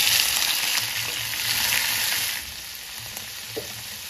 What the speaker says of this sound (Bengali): চিংড়ি মাছটা আমি হালকা ভেজে নেব।